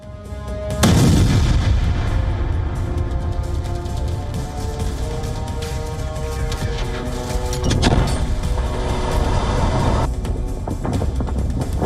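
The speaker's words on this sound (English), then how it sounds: "Cross-border firing between Lebanon's Hezbollah and the Israeli forces has intensified." Artillery fire on the Israel-Lebanon border, with loud booms and rumbling blasts rolling over a steady, noisy background, including a sharp heavy impact near the start and another burst of booms toward the end.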